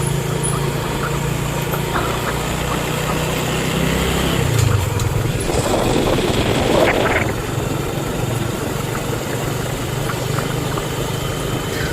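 A rented motorcycle hums steadily on a ride around Tioman Island, its engine drone constant and fairly close, swelling briefly in the middle before settling back to an even rumble.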